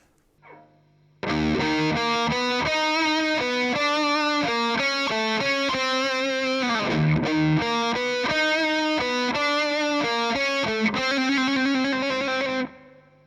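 A distorted electric guitar through a Marshall DSL20 amp plays a sustained, chord-heavy riff with a washy reverb tail, loud and continuous after a brief quiet start.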